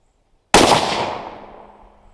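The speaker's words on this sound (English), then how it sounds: "223 64 grain soft point next for our final shot" A single sharp, loud gunshot from a Ruger American Ranch 5.56 NATO 16-inch rifle firing a .223 64-grain soft point round outdoors, cracking suddenly and then trailing off in a long decaying echo.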